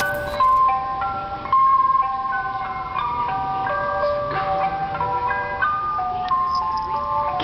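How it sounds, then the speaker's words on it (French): An ice cream truck rolls slowly down a street, its loud chiming jingle melody playing continuously with a low vehicle rumble beneath. "c'est simplement la vidéo d'un homme qui a filmé un camion de glace qui descend une rue très lentement"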